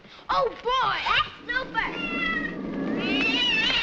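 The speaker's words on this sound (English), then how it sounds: "leave that cat alone" A cat meows and caterwauls in drawn, wavering cries amid lively children's voices and adult speech in a busy household, the cries growing longer and more insistent toward the end.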